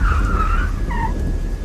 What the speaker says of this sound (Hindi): मुझे अपने पीछे गाड़ी के ब्रेक की आवाज सुनाई पड़ी